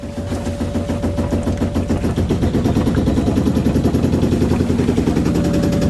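Inboard engine of a Hunter 27 sailboat running steadily and revving up, with a loud, continuous rhythmic mechanical thrum that grows slightly stronger toward the end.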